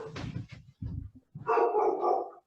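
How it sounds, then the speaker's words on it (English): A dog barks loudly in a few quick, gruff bursts, followed by a longer higher-pitched yelping or whining howl, fairly close. "this dog is like barking like crazy"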